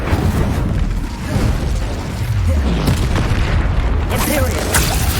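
The Incendio fire spell in Hogwarts Legacy blasts in a loud, dense roaring burst that carries on steadily, with voices heard over it.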